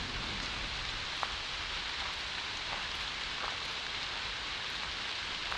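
Steady rain pours outside an old stone house at night, a dense, even hiss of drops on surfaces with a few louder spatters, no voices.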